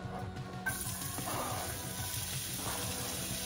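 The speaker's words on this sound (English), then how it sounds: "Now we're gonna go ahead and saute up the garlic and the onion." Garlic sautéing in bacon grease in a preheated pan for smoked meatloaf, a steady soft sizzle and crackle that runs evenly throughout, close and moderately quiet, with no talking.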